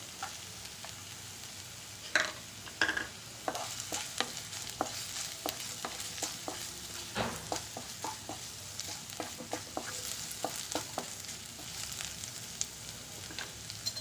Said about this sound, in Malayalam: ഇനി നമ്മൾ സ്വല്പം അരിഞ്ഞ് വെച്ചിരുന്ന പച്ചമുളക് ഇട്ട് കൊടുക്കാം.